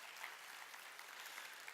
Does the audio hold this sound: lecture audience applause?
yes